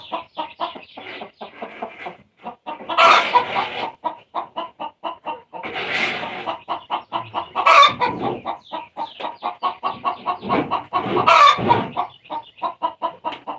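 Hens cluck rapidly and repeatedly in rhythmic bursts, with louder squawking calls rising every few seconds, close and clear.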